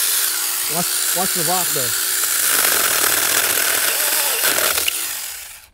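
A Tomyvic 6-inch mini chainsaw buzzes steadily as it cuts through wood, its high whine continuous and close throughout, with someone speaking briefly over it near the start.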